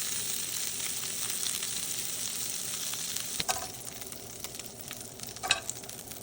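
Homemade meatballs fry in a pan on a stovetop, giving a steady, fairly quiet sizzle with a couple of brief clatters or stirring knocks partway through.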